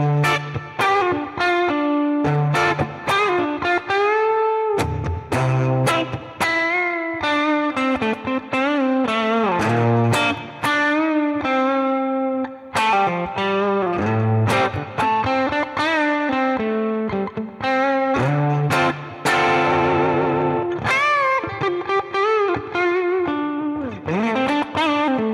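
An electric guitar through a slightly driven Fender Deluxe Reverb amp model on an IK Multimedia ToneX, bridge pickup, plays a continuous melodic line of single notes and bends, up close with a touch of reverb.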